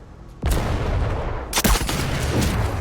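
A loud rifle shot from the Sniper Elite VR game cracks out with a sharp onset and rolling boom, followed a second later by a second heavy shot with echoing tail.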